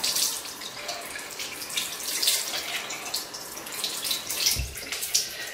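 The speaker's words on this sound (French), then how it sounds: "Je vais le rincer pour voir si ça se lave facilement." A Glov makeup remover glove is rinsed under a running tap, giving a steady splashing rush of water that holds for several seconds with no talk.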